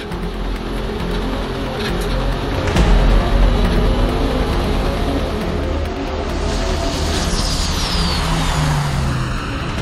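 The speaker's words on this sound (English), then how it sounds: "We are doing a shakedown run to see if we can get enough speed there to be comfortable with the Land Speed Cruiser" A Toyota Land Speed Cruiser SUV on a high-speed shakedown run, with a steady loud roar of engine and wind that holds throughout and swells briefly near the start, with no voices.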